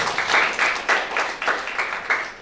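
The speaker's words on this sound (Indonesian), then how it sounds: "Beri tepuk tangan dulu" At a Sunday church service, the congregation claps in a strong, regular rhythm, about eight beats in unison, loud and close.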